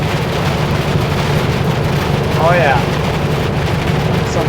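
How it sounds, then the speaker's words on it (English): Dense, continuous roar of heavy rain drumming on a semi truck, loud and steady, with a brief voice speaking over it. "Some good rain."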